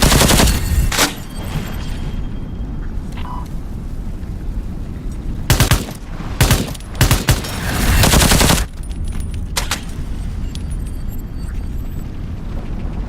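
Gunfire in the game Into the Radius 2: loud, rapid automatic bursts, with several dense volleys clustered in the middle, over a steady rumbling background.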